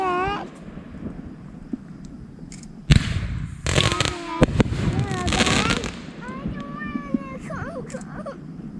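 Backyard family fireworks burst in a loud cluster of sharp cracks and pops, with voices talking and someone speaking before and after the blasts.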